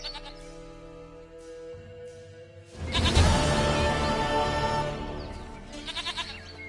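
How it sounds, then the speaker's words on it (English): Goat bleating in a game scene, with a long loud wavering bleat rising over quiet background music, then trailing off into shorter calls. "Goat of mine, dearest, sweetest goat."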